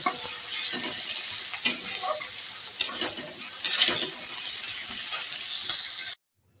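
Chana dal cooks in a pan with a steady close sizzle, broken by scraping stir strokes and occasional clinks, before cutting off abruptly at the end.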